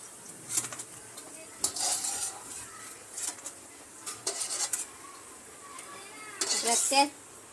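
Fried cashews being scooped out of a pan into a dish: clinking of metal utensils against cookware and dishes in short scattered bursts, with faint sizzling underneath and occasional background voices.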